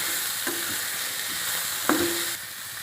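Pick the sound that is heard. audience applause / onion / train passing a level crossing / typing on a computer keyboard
onion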